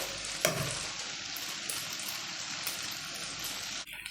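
Eggs go into macaroni frying in a pan, setting off a sudden burst of sizzle followed by a loud, steady crackling fry that cuts off sharply near the end, with no voices.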